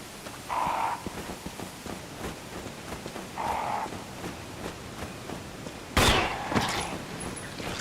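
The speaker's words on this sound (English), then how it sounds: "Help! I'm being attacked by crows." Crows attack and caw in the Resident Evil HD video game: two harsh cawing bursts a few seconds apart, then a louder, sharper flurry near the end over a steady background hiss.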